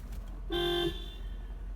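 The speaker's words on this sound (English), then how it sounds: "so I think this is the city horn" A single short toot of a Mercedes-Benz 560SEC's city horn, steady and moderately loud, lasting under half a second against low background rumble.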